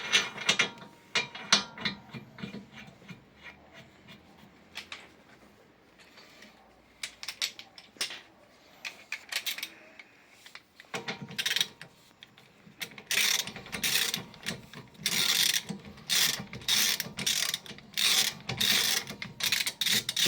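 A ratchet tightening a new screw on a Golf 6 1.4 16V wheel bearing, rapid close clicking in bursts, sparse and lighter at first, then dense, loud and continuous toward the end.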